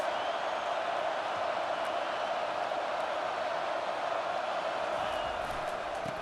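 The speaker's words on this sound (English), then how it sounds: "This crowd trying to make life miserable for this offense." Stadium crowd noise in EA Sports College Football during a Texas vs Colorado State game: a dense, continuous roar of spectators holding steady throughout, with no distinct breaks.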